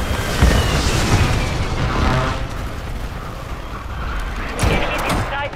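Precision airstrike explosions from the Call of Duty MW3 video game, set in Afghanistan, with deep booming blasts at the start and again near the end over a constant rumbling roar.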